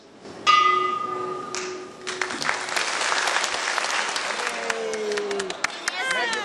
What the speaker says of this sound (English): at the climax of the concert, everyone rings the peace bell in a call for global harmony